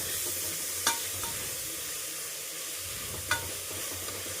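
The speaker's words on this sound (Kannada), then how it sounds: "ಇದನ್ನು ಹಾಕ್ಕೊಂಡು ಟೊಮೆಟೊ ಸಾಫ್ಟ್ ಆಗೋವರೆಗೂ ಫ್ರೈ ಮಾಡ್ಕೊಳ್ಳೋದಷ್ಟೇ." Two medium chopped tomatoes fry with onions in a pan for a vegetable palya, a soft, even sizzle heard alone with two distinct clicks from a stirring spoon.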